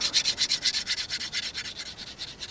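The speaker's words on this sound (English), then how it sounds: "You're just strengthening that cutting edge because you're sharpening it, a secondary bevel on a steeper angle." A big LT Wright Leuku carving knife has its secondary bevel sharpened at a steeper angle, heard as loud, close, rhythmic rasping strokes of steel on an abrasive, about four per second with no pauses.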